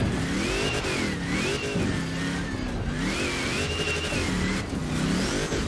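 A sports car engine in the video game Forza Horizon 4 revs repeatedly, its pitch climbing and dropping in smooth waves, steady and loud with no voices.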